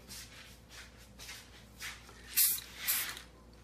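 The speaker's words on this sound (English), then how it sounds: "Nothing more exciting than seeing spray paint" Short hissing bursts of aerosol spray paint priming 3D-printed Kill Team wargame terrain, several quick sprays spaced apart, with two louder, sharper blasts near the end over quiet background.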